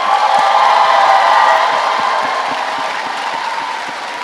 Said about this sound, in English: So please join me in giving them a huge round of applause.